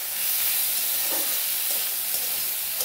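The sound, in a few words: garlic and dried and green chillies tempering in hot oil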